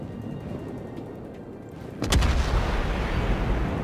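Naval guns on the USS Pensacola fire in World of Warships: one sudden heavy blast about halfway through, followed by a deep rolling rumble that lingers over steady low background noise.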